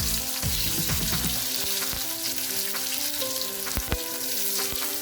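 Thick slices of large garlic cloves roast in hot oil with a continuous close sizzle and scattered small pops and scrapes, over a faint tonal background.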